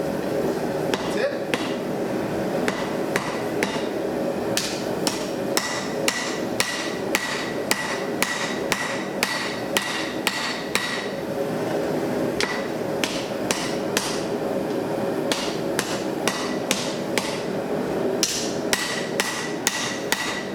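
Steady hammer blows forging the tip of a steel seax knife blade on an anvil, loud, close and evenly rhythmic, a long run of ringing strikes with only brief pauses.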